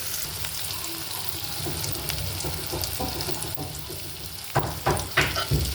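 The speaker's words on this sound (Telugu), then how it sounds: "అల్లం పేస్ట్ వేసుకున్నా బాగా ఫ్రై చేసుకున్నాం" Onions and ginger paste fry in oil in a pan with a steady, close sizzle, and louder spatters and stirring scrapes come near the end.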